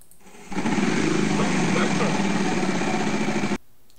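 The Wheel of Fortune wheel spins on a daytime game show and gives a dense, steady clatter of rapid clicks that lasts about three seconds before stopping sharply.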